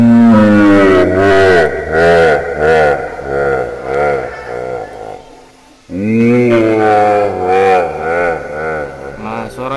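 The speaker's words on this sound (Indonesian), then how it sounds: "efeknya kita ganti ke ini yang devil. Nah, nanti akan jadi seperti raksasa, atau setan." Voice run through a devil sound effect in an Android app, pitched down into a deep, growling, monstrous tone; two loud phrases of processed speech separated by a short pause.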